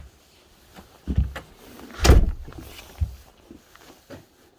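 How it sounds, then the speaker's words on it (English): A house door swung shut on a snowy day as cats head outside, heard as a couple of dull wooden thumps and a firmer central knock, close by, with light shuffling around it. "Now close the door"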